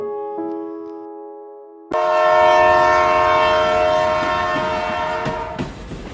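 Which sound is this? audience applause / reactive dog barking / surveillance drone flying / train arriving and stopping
train arriving and stopping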